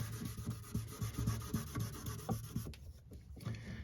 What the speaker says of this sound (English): that's as far as we're going to go with the wet sanding